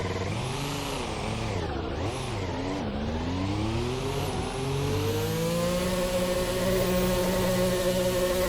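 The engine of a Formula Hybrid X race car in a racing sim revs hard, sweeping up and down before holding a sustained high whine against the rev limiter, loud and continuous with no talk.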